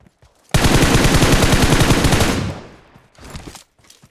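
Automatic gunfire hits a training dummy in BGMI, a loud burst of rapid shots lasting about two seconds that trails into a fading echo, then a few quieter clicks.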